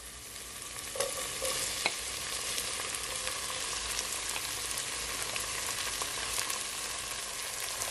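Mixed vegetables hiss and crackle steadily in a hot pan for Jamaican vegetable rice, with a few sharp clicks of a spoon stirring through them, close and fairly loud, no voices.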